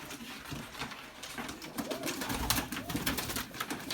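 Soft tumbler pigeon coos sound over a rustling background, with occasional sharp clicks and flutters nearby.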